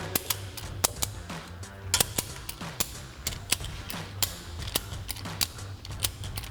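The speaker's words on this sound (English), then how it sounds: "Just gonna crank it down enough to get it back in alignment." Ratchet cranking down a bracket on a Runner Eibach Pro-Truck lift system, a rapid sequence of sharp metallic clicks in an even rhythm, close and loud, with a low hum beneath.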